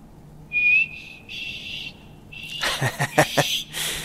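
A drawn-out whistle with a couple of tones in the video game Skyrim, followed by clattering noises and brief vocal sounds.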